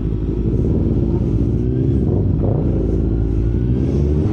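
A Yamaha MT motorcycle engine rumbles steadily and close up, with a brief rise in revs partway through, and no voices over it.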